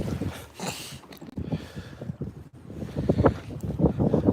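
Wind buffeting a microphone out on a lake during bass fishing from a boat, steady gusty rumble with louder surges throughout and no speech.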